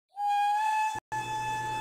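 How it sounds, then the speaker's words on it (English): A steam train whistle sounds one long, sustained, harmonic-rich tone, briefly broken, then continuing over a low rumble. "then they heard an ominous whistle"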